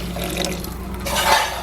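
Water poured into a pot of rice for chicken biryani, six glasses of water to three of rice: brief kitchen clatter, then a steady rushing pour that swells about a second in and holds to the end.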